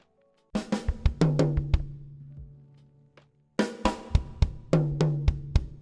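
A beginner drum fill on a kit, played twice: rapid snare strokes, then pairs of tom hits alternating with bass drum thumps, close and punchy, with a short gap between the two passes.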